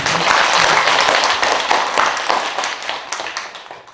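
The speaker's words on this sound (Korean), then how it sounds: "우리 모두 박수 한번 주십시오" An audience at a Buddhist dharma lecture breaks into dense, loud applause that holds steady before thinning out and fading toward the end.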